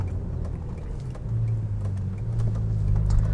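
A 1997 second-generation Audi S4 B5 engine runs nearby with a deep, throaty rumble that steps up in loudness partway through as it revs, then keeps building toward the end.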